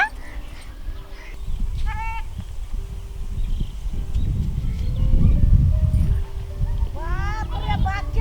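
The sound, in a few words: goats bleating in a field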